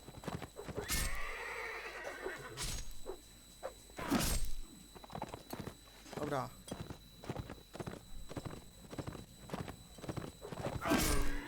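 Horse neighs and clip-clopping hooves from the Mount & Blade: Warband multiplayer game, several sharp whinnies spread through the clip over steady hoof steps, with someone talking excitedly over them.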